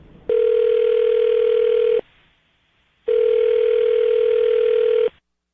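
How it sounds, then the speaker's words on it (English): Telephone dial tone from a handset while a number is dialed, heard as two steady, loud, unbroken tones of about two seconds each, split by a short silence. "I'm dialing her phone number right now."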